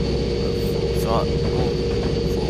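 Amtrak F40PH diesel locomotive engine running at full RPM: a loud, steady droning rumble heard from on board, with a voice talking over it.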